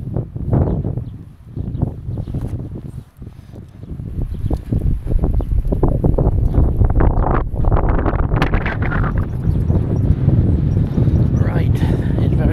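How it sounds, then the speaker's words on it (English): Gusty wind buffeting the microphone on a beach on a blustery July day, a steady low roar that surges and drops in strong gusts, with voices talking intermittently underneath. "it's very gusty. Got sand almost blowing in our faces here"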